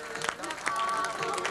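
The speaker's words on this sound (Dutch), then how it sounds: "En bij die foto's klinkt natuurlijk uw sportief applaus voor deze 3 coryfeeën van de Limburgse wielersport bij de junioren" Indoor crowd claps for three junior cyclists at a 1989 Limburg club road-racing championship ceremony in Gulpen, a brief dense patter of applause with a voice talking over it.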